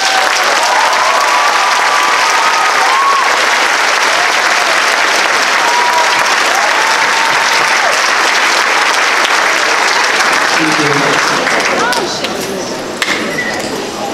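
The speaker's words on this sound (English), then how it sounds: "Members of NHS, please rise to be recognized with a round of applause." A large crowd at a Fitzgerald High School commencement breaks into loud, sustained applause to honor NHS members, a dense wash of clapping that tapers slightly near the end.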